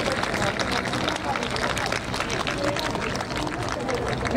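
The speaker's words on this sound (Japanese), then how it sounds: "大きな拍手をお願いします" Audience applause at a guard dog training demonstration during an air base open house, dense steady clapping and crowd noise filling the whole stretch, fairly loud and continuous.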